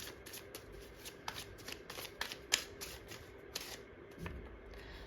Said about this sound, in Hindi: मैंने ना आज ये कार्ड सारे मिक्स कर दिए हैं, और मैं चाह रही हूँ कि इसमें से मैं कार्ड निकालूँ